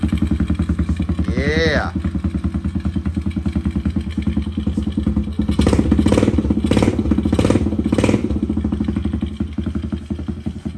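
A Kawasaki KLX110 pit bike runs with its exhaust close and loud, a steady rapid idle putter with a brief rev partway through and some rattle; a short spoken word comes early.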